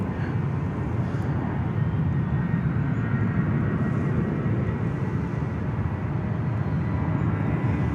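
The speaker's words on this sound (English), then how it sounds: "Another Jetstar on the roll." A Jetstar airliner taking off at Sydney Airport produces a low, sustained jet engine roar heard from a distance, steady and rumbling throughout without talk.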